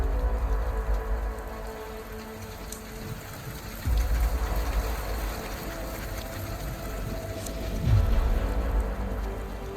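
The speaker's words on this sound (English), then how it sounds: "The weather has been absolutely terrible with the rain, and there's been a lot of wind." Heavy rain pours steadily on a surface outdoors during a Texas hunt, a dense continuous roar with a low rumble underneath and a couple of brief swells in intensity, no voices.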